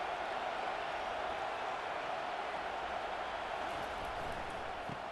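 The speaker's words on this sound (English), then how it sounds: "Here comes the crowd noise, trying to help this defense out." Stadium crowd noise swells in EA Sports College Football 25, a dense, steady wash of distant roaring and cheering that stays even and unbroken throughout, with no clear voices on top.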